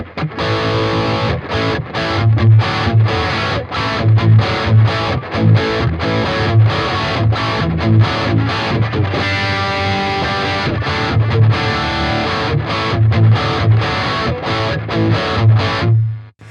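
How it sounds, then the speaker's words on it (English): Electric guitar played through an amp simulator with heavy, saturated distortion, a thick sustained tone chugging in steady rhythmic strums, loud and close throughout with no talking. "we can go full tooth distortion"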